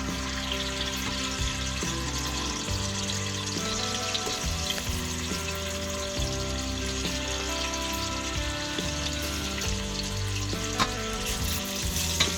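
Potatoes frying in a little oil at the bottom of a pot while spaghetti is layered in, a steady sizzle throughout with music playing underneath.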